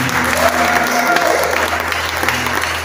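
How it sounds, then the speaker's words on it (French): A church congregation applauds and cheers for the Lord during a French sermon on baptism, a dense, steady wash of clapping with crowd voices mixed in, loud and continuous throughout. "Est-ce qu'on peut donner des acclamations au Seigneur?"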